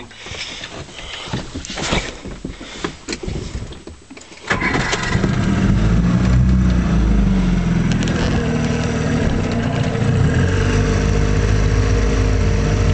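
A 1956 Johnson Javelin 30 HP outboard motor on a 14-foot fiberglass runabout sputters and catches, then settles into a steady, loud rumbling idle close by.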